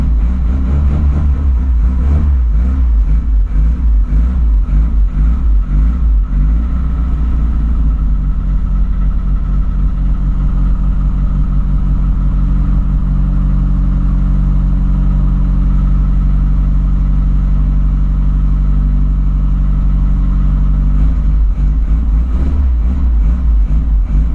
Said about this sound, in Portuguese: Dá uma esquentada aí no motor.